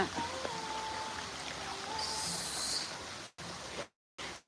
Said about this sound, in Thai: จะมีเสียงน้ำไหลแบบนี้เลย